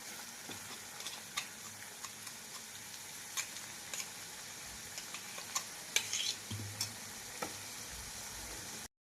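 Ground masala paste is roasted in oil and stirred for stuffed brinjal curry. A quiet, steady sizzle runs throughout with regular light ticks and scrapes of the spatula, and no voices.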